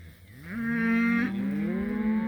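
A cow moos loudly and close by during a cattle drive, where cow-calf pairs travel together. The call is one long, drawn-out moo that rises and then bends in pitch, with no talking.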